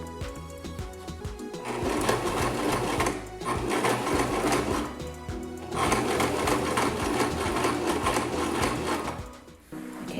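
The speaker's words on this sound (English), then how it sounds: "Lift up my presser foot and I'm going to swivel around again, put that back down, and I'm going to continue sewing." A sewing machine stitches a tag onto a wig in steady, continuous runs, pausing briefly around the third and fifth seconds and again near the end as the presser foot is lifted and the work is turned.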